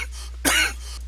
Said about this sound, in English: little cough there, sorry.